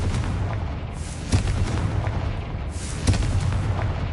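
Two loud booming blasts from the Confringo fire spell in the video game Hogwarts Legacy, about two seconds apart, each a sharp thud over steady rumbling game background.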